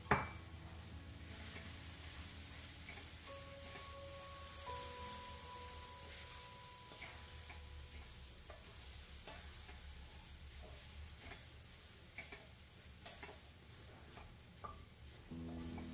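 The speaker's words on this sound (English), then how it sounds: "add in the squeezed puffed rice and mix well." Squeezed puffed rice is stirred into cooked tomatoes in a hot pan for uggani, producing a soft, continuous sizzle with occasional scraping stirs, faint and close, without any voices.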